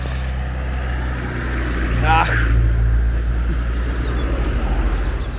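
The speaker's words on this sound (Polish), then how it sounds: "bo mi się tutaj rozjeżdżają samochody" Cars drive past on the road to Falicon, with a close engine swell and whoosh midway and steady traffic rumble throughout. Someone speaks briefly over the noise.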